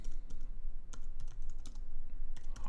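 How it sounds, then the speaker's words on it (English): Fast, steady typing on a computer keyboard, close and clear, with dense key clicks and a few short pauses between bursts. "So I'll type that in."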